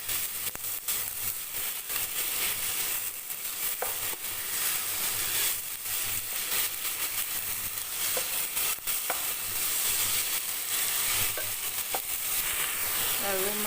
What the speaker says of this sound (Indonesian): Kemudian masukkan daging sapinya, biarkan sampai agak kecoklatan